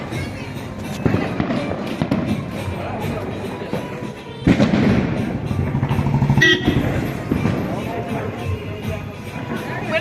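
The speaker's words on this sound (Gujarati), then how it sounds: "આમ ચારી કોર ફટાકડા ફૂટે" Diwali firecrackers burst all around in dense, overlapping pops and thumps, with heavier loud blasts near the middle, while voices talk throughout.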